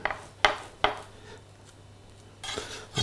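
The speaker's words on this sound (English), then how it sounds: "Rub the palette knife and your hand together and simply push them down" Metal palette knife pressing laver patties flat against a board or pan, giving two sharp clacks early on followed by soft scraping and pressing sounds, with another clatter near the end; close and fairly quiet.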